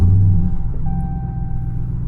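A Ram TRX pickup truck's engine rumbles close by with a deep, steady low-end drone that holds through the whole stretch, a faint tonal whine rising partway in, and no voices.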